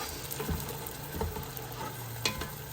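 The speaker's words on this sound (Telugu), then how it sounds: "ఇప్పుడు ఈ ప్యూరేతో తిప్పి తిప్పి తిప్పి తిప్పి నూనె పైకి వచ్చే వరకు తిప్పాలి" Tomato puree fries in oil in a pan while a spoon stirs it, a steady close sizzle broken by soft scraping strokes and clicks against the pan, with no talking.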